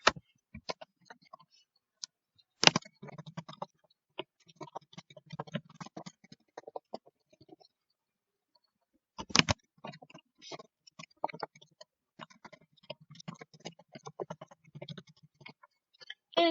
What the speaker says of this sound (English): So click here and type in,